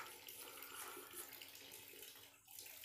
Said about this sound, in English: Now I have opened the tap